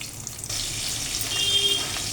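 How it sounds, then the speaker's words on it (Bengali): Potato pieces drop into hot oil in a kadai already used for frying fish, setting off a sudden bright sizzle about half a second in that keeps crackling steadily. "এই তেলেই আমি আলুটাকে ভেজে নেব"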